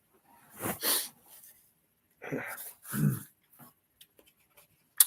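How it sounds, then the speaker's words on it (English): Two sharp, breathy bursts a couple of seconds apart, like sneezes or sneeze-like snorts, close to the microphone, with faint small noises trailing after. "about to sneeze here"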